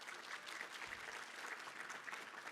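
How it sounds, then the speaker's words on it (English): A banquet audience gives a steady round of applause for sponsors, many hands clapping evenly throughout, heard at a faint, distant level. "please give our guests from the Dean of Students Office, Dining Services, Housing and Residence Life, and the Center for Student Enrichment a big round of applause."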